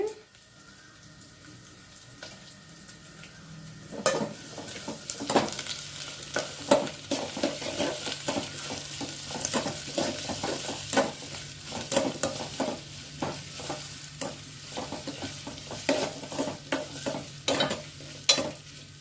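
Onions fry in a pan while a utensil stirs them in repeated scraping strokes over a steady sizzle, close and moderately loud, for taro root tamarind stew, with faint running water or a tap in the background.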